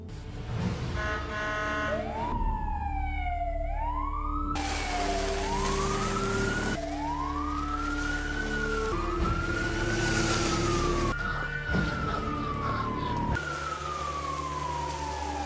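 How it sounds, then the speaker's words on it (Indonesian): An ambulance siren blares in a film scene, its loud wail rising and falling in repeated sweeps, with traffic noise and music-like tones underneath. "menaiki ambulans dan mengaktifkan sirine sebagai umpan"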